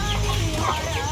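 Chickens cluck in a coop, a short burst of close, busy clucking and soft chick peeps over a dense noisy background.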